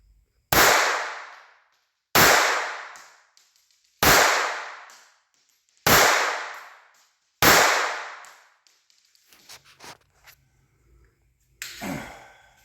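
Five sharp .22 pistol shots from a Walther firing Champion ammunition, evenly spaced about every second and a half, each loud crack ringing off, followed by faint handling clicks and a final softer thump.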